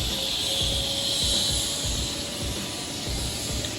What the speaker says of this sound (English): it looks like we got that Gulfstream starting its engines over there, so it's gonna get a little noisy